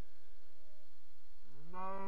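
Cows moo in the video game Minecraft: after a quiet stretch, a single low moo rises and swells near the end, clear and fairly close, with no talking over it.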